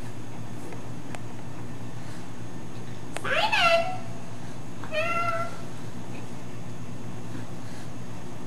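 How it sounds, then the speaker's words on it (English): Two separate cat meows, the first louder and drawn out, the second shorter, over a steady low hum in a quiet room. "Whoops! You scared the kitty."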